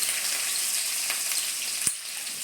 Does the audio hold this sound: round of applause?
no